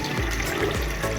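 Tap water runs steadily while hands are rinsed under it, a continuous close splashing rush with slight fluctuations and no talking.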